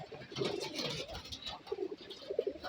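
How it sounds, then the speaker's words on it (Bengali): Several pigeons coo softly nearby at a pigeon farm, low throaty calls overlapping in an irregular rhythm against faint background noise. "প্যারা দেখেন সবাই ডাকাডাকি করছে"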